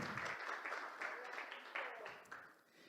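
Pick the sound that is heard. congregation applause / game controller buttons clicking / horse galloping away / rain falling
congregation applause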